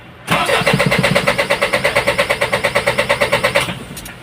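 An Isuzu 4HL1 diesel engine with a hard-starting fault cranks for about three seconds. The starter gives a loud, rapid, even chugging rhythm, then stops without the engine catching.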